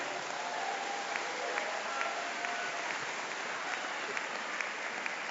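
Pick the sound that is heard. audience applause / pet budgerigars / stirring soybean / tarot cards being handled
audience applause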